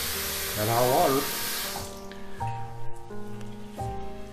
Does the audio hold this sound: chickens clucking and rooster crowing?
no